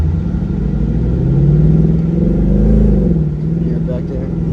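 A Ford Mustang GT with a 10-speed gearbox, driven as a convertible, revs its engine while underway: a loud, close, throaty drone that swells and eases across the stretch.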